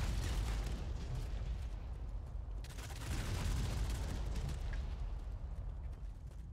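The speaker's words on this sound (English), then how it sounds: "I need to use my grenades now." Grenade explosions and battle noise in the Modern Combat 5 mobile shooter, a rumbling low-heavy burst with crackling shots layered over continuous combat din, moderately loud and sustained.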